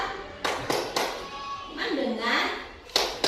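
A sixth-grade class doing a rhythmic focus clap routine, sharp group claps landing in a short pattern between chanted phrases, with voices loud between the claps.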